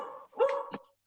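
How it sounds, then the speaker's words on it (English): A pet dog barks a couple of times close to a home microphone during a virtual planning commission meeting; the sharp barks are fairly faint and come with no talk around them. "That's my dog."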